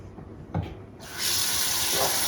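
Tap water running into a pot for cooking potatoes and fish, a brief clunk and then a steady loud rushing pour that starts about a second in and keeps going to the end, with no talk.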